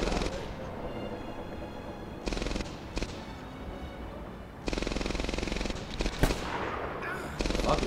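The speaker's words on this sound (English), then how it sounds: "Who's firing the machine gun so I can snipe it out of it?" Machine gun fire in the Medal of Honor Airborne video game: rapid, loud bursts of automatic shots in several clusters, with short pauses and scattered single cracks between volleys.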